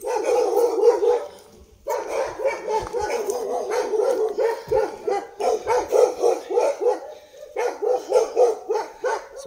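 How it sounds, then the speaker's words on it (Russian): Several yard guard dogs bark loudly and persistently, close by, in rapid overlapping bursts with yips and short pauses, filling the outdoor scene almost continuously. "Сумасшедшие собаки. Это дворовые домашние. Охраняют."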